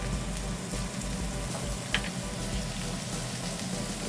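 Butter sizzles loudly in a hot frying pan beside a flipped piece of meat, a constant close crackle and hiss with a faint spatter pop partway through.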